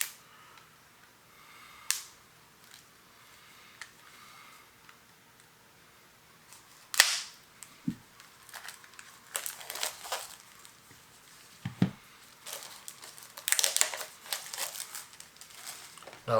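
Scissors cut and crinkle the plastic wrap on Warhammer 40,000 Kill Team card packs, with sharp snips and bursts of crackling plastic scattered among quiet gaps.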